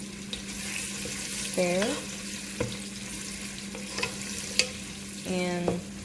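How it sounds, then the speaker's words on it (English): Onions dropped into hot oil for jollof rice crackle and sizzle steadily, with a few utensil knocks and scrapes; a voice speaks briefly. "the oil is hot enough, so I'm gonna add the onions to it."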